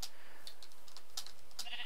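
Sheep in a Minecraft-style blocky video game bleat in short, faint bursts, several quick calls scattered across a quiet background with no talking.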